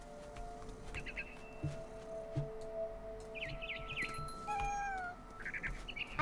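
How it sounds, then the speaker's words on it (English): A cat meows several times in What Remains of Edith Finch, the calls fairly close and clear over a steady game ambience of faint birdsong and low hum, with no talk. "Suddenly, I was a cat."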